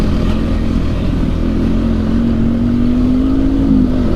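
KTM 390 Adventure motorcycle accelerating on an off-road trail, a loud close single-cylinder engine whose pitch climbs steadily under constant wind and road rumble.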